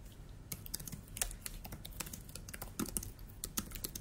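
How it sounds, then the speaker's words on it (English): Rapid clicking keystrokes on a computer keyboard, irregular bursts of taps close up and fairly quiet, no voices. "I can type something like this"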